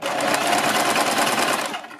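A sewing machine runs steadily, stitching a thick strip of plain thread onto a neck piece. The motor keeps a continuous, fast-buzzing rhythm up close for nearly the whole moment, then winds down slightly at the end.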